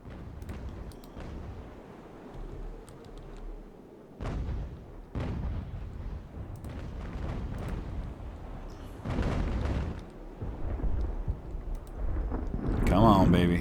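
Age of Sail naval cannons fire from warships in Ultimate Admiral, with several heavy booms spaced a few seconds apart over wind and sea noise, some rumbling on. A voice talks between the shots.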